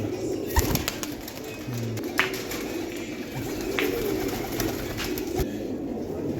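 Pigeons in a fancy hobbyist's collection of picture-marked birds coo softly against a busy background, with a few brief sharp clicks and rustles scattered through and no talking.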